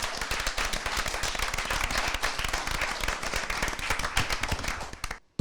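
Crowd applause for a team at a game-show arena event, dense rapid clapping sustained for about five seconds, fairly loud and close, then cutting off abruptly.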